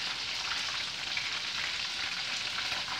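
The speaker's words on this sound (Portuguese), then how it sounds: "Fritando o frango." Chicken pieces fry in a pan for a home-cooked vegetable stroganoff meal, a steady close sizzle and crackle of hot oil with no voices.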